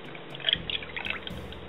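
Eggs, vinegar and ice water poured and splashing into a bowl for pie crust, a short trickle with small drips and clinks, close up and fairly quiet.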